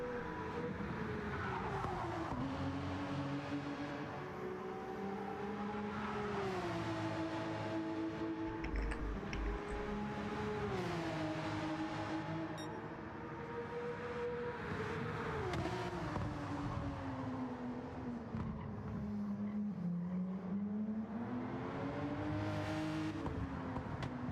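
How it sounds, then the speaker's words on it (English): A purple Porsche GT race car in Gran Turismo 7 laps the Kyoto circuit, its engine note steadily rising and falling through gear changes and corners, loud and continuous with a brief dip mid-lap. "The purple Porsche with V2 is flying around the circuit as we speak."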